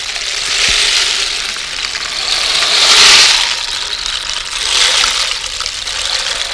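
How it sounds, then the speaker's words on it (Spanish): A water gourd rain stick, a large hollowed-out gourd built like a rain stick, is played as a modern instrument. It gives a steady hissing, rushing wash of fine rattling that rises and falls in a few slow surges, with no talk. "Hay instrumentos modernos inclusive, como este bule de agua, pero que tiene está hecho con respecto a los lineamientos de los bastones de lluvia"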